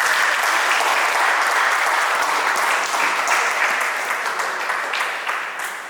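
Guests at a wedding ceremony break into sustained applause, a full, dense clapping that stays strong and close before gradually tapering off at the end.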